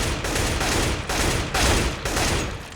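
Rapid gunfire in the video game Counter-Strike: Global Offensive, loud and close, with dense automatic bursts separated by brief pauses about every half second.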